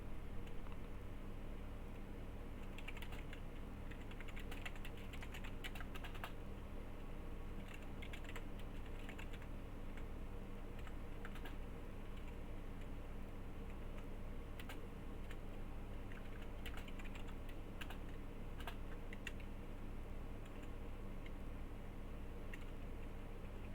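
Steady typing on a computer keyboard, quick irregular key clicks with brief pauses, close and fairly quiet over a low hum.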